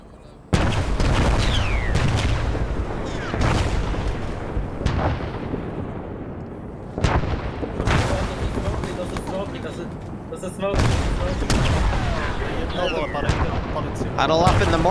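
Repeated airburst smoke artillery rounds bursting in a military video game, a string of loud booms and cracks spread across the clip, some sharp and close, others rumbling, with a voice talking over them.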